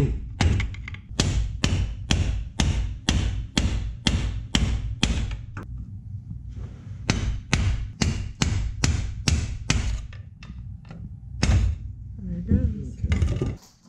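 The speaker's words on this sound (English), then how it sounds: "I was able to just hammer on these lips here" Rapid series of sharp metallic hammer blows on an FJ Cruiser front axle seal, loud and close, in quick bursts with a brief pause midway, then more strikes.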